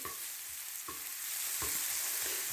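Food frying in a pan over a low gas flame is stirred in a few separate scrapes, each spaced about a second apart, over a steady close sizzle.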